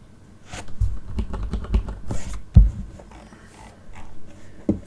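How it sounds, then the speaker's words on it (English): Typing on a computer keyboard while searching Windows for Task Manager, a close run of irregular key clacks with a few heavier thumps, then a pause and a final key press, no talking. "So type in the Windows search to task manager."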